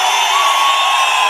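Dense, loud cheering from a Palamaner political rally crowd fills a brief moment, with shrill whoops riding on top of a steady roar.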